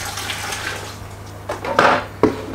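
Water is poured into a pressure cooker holding potatoes and carrots, a close splashing pour with a few sharp knocks of the pot near the end.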